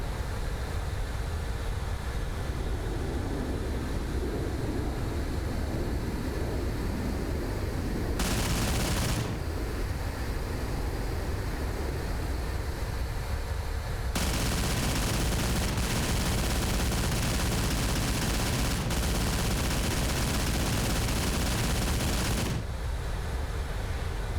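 Ship weapons fire in bursts during a dogfight in the video game Mass Effect, a dense, steady roar of rapid shots broken into blocks, with louder bursts in the middle and no talk over it.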